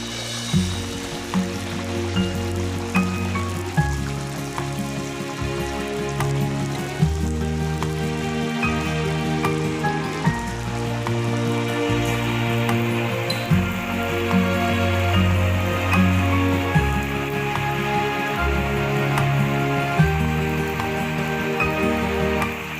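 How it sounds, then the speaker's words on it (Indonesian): Hot oil sizzles and crackles steadily as taro slices deep-fry over high heat, under tonal background music. "Setelah minyaknya panas, kita goreng talas dengan api besar."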